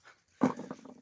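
A puppy at home gives one short, faint whimpering yelp, heard alone.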